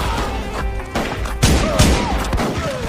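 Gunfire from a short film, a dense burst of sharp shots and booms layered over a cinematic soundtrack, with the louder impacts bunched in the middle and the shooting continuing to the end.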